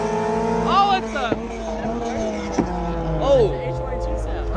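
A Honda H22 engine car revs and passes nearby at a car meet in Mexico, its pitch rising and falling with gear changes, while people talk over it.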